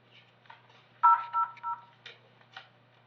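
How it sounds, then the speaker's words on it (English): Telephone keypad tones heard over a jail line during a court first appearance: a quick run of several distinct dialing beeps in succession, clear against a low steady hum. "do you guys hear that there at the jail, like a phone dialing?"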